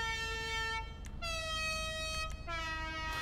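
Vehicle horns tried out one after another in GTA Online on the Impaler arena car: steady multi-tone blasts, a long horn chord, a pause, then two more sustained honks, loud and alone.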